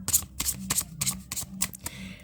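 Tarot cards shuffle in quick riffling bursts, close and fairly quiet, each flurry of papery slaps coming a fraction of a second apart.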